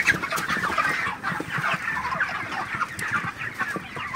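Broiler chickens on a farm cluck steadily in a dense, continuous flock chatter at midday, many birds overlapping close by with no voices present.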